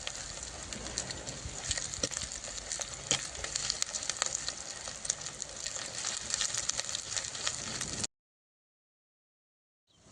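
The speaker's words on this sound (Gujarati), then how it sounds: "ડુંગળી આપણી સરસ રીતે શેકાઈ જવી જોઈએ" Onions with spices frying in a pan for a whole-garlic curry, a dense continuous crackling sizzle with small pops and stirring sounds, cutting off near the end.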